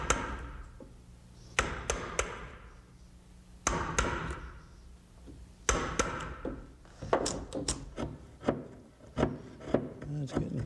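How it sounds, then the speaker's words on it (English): Chisel and mallet work mortising hinge recesses into the edge of a wooden door, with sharp wooden taps and knocks in clustered bursts, close and fairly loud, between stretches of scraping and paring. "Now the hinge side is up, and so I'll mortise for the hinges so I don't have to turn it around again."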